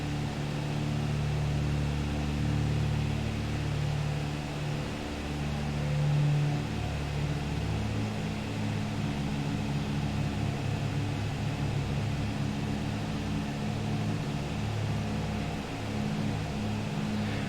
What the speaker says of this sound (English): That sound when your engines get out of sync, that is, you know, annoying.